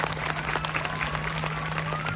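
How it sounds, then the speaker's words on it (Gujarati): Audience at an education expo applauding a performing team, dense continuous clapping from a large crowd, lively and fairly loud throughout with a steady hum underneath. "એકવાર આ ટીમને તાળીઓના ગડગડાટથી વધાવો."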